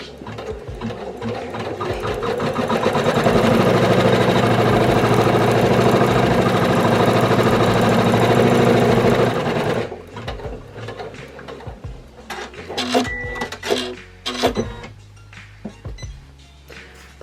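A single-needle embroidery machine stitches a felt key fob, a loud steady mechanical whirring and rapid needle chatter for about ten seconds, then stops and gives way to scattered clicks and handling clatter.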